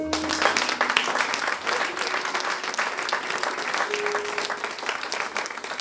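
A church congregation breaks into sustained applause, dense steady clapping from many hands filling the room, with no talk over it.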